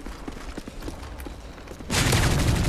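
Pistol fire in Call of Duty: Modern Warfare 3: a quick run of light, evenly spaced shots, then a sudden louder, dense burst of gunfire and noise that holds to the end.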